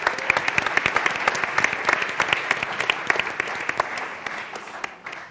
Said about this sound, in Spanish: Ahora vamos a darles un aplauso.